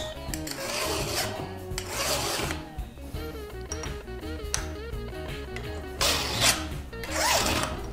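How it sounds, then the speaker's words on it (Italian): A flat file rasps across the depth gauge of a chainsaw chain in repeated gritty strokes, close and fairly loud with short pauses between passes and no speech. "il delimitatore si affila con una lima piatta, diamo un piccolo passaggio di lima sul delimitatore"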